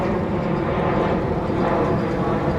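A plane taking off from Palma Airport on Mallorca, a broad steady jet roar heard from a busy seafront nightlife area in summer, with crowd noise and voices mixed in.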